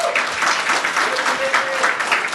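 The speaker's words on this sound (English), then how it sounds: "please join me in giving a warm round of applause to welcome the founder of Artha, Mr. Samir Pandey" A crowd at an evening event gives loud, dense, sustained applause to welcome the founder of Artha onstage, a continuous wash of clapping with no pauses.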